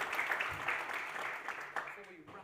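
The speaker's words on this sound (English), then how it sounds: "Could we give Tom a round of applause, please, ladies and gentlemen?" An audience at an electricity market design conference applauds a speaker, a steady spread of clapping that thins out toward the end while a voice talks over it.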